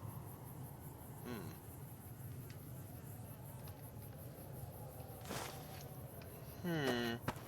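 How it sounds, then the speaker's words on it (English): Chirping insect ambience like crickets in a night setting in Fallout New Vegas, a steady faint buzz under the game's other sounds, with brief sweeping chirps near the start and end. "Anybody else hearing cricket noises?"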